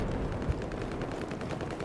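Rapid handgun shots from a powerful, heavy-recoil pistol like a .44 Magnum in Battlefield 4 multiplayer, a steady stream of close, punchy reports amid constant battle noise.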